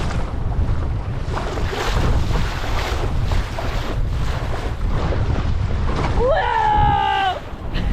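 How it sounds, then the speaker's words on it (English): Strong wind buffets the microphone and waves slosh against a small sailboat's hull during a sailing session, loud and constant throughout, with a voice briefly rising over the roar near the end. "This is probably the highest wind I've sailed in as a skipper."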